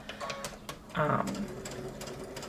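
A home sewing machine stitching fabric with a fast mechanical whir and clicking, rising to a louder burst midway, as a person talks nearby.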